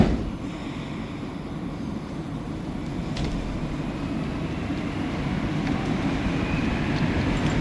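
A Montreal Metro train runs through the tunnel between De la Concorde and Jean-Talon stations, making a steady, loud, continuous rumble with a faint high whine. No voices are heard.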